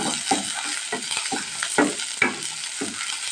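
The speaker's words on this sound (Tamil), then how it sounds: "ஒரு கொத்து கருவேப்பிலை போட்டுக்கலாங்க ஒரு பச்சை மிளகா சேர்த்துக்கலாங்க எல்லாத்தையும் நல்லா மிக்ஸ் பண்ணிக்கலாங்க" A spoon scrapes and stirs onion, curry leaves and green chili around a hot pan for potato gravy, making a soft repeating scrape-and-rustle rhythm over a steady low sizzle.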